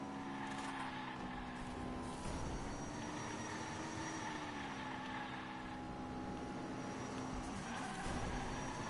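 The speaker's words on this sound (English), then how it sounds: "I hear somebody boosting, trying to catch up to me" The Bone Shaker boosting to catch up in a racing video game: a steady, droning engine roar that swells and shifts in pitch, with no talking over it.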